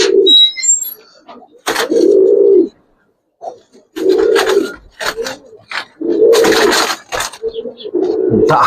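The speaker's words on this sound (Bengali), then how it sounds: "দোনোটা কবুতরের এত পরিমাণ ডাক ভাই" Giribaz pigeons cooing loudly and close in repeated throaty bursts, each lasting about a second with short pauses between, while someone talks nearby.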